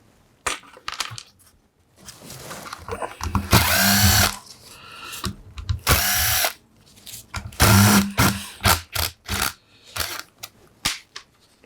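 Screws come out of a Mercedes hybrid N129/1 inverter housing under a power screwdriver, which runs in several short, loud whirring bursts separated by pauses filled with clicks and clinks of metal parts.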